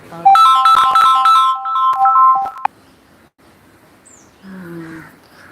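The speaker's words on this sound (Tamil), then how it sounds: "நம்ம லைவ் போடும்போது தான் ஃபோன் வரும்" A phone ringtone plays loudly and clearly as a melodic electronic tune for about two and a half seconds, then cuts off abruptly, leaving quiet background and a faint later sound.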